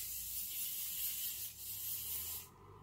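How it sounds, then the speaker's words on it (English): Aerosol setting spray released in one steady, close hiss lasting a couple of seconds with a brief dip midway, then cutting off abruptly into near silence. "spraying it on your face and you're done"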